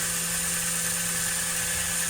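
A twin-armature motor from a 1950s toy train engine, a 1952 Atlantic or 1954 Rocket, spins fast in forward with a steady high-pitched whine and buzz, continuous and close, with no talk over it.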